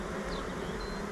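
Honey bees hum in a busy hive, a short, soft, steady buzz with no voices over it.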